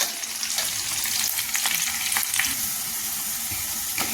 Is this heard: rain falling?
no